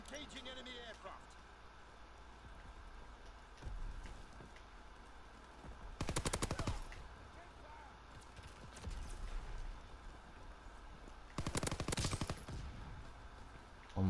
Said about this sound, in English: Oh my god, I love this gun.